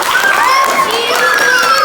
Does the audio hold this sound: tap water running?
no